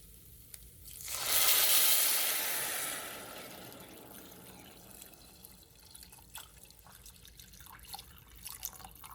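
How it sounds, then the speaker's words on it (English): Water pours from a tap into a cooking pot of rice and lentils for pongal, a loud rushing splash lasting a couple of seconds that fades into soft drips and small kitchen clinks. "Now we'll add water."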